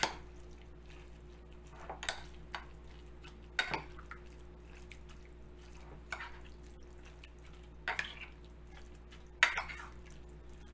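Bibimbap ingredients being mixed in a bowl, heard as sparse, quiet clinks and soft wet stirring sounds at irregular intervals over a faint steady background hum.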